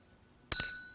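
A Buddhist khánh chime struck once as a signal during chanting, a bright metallic strike that rings on with a clear lingering tone after a quiet lead-in.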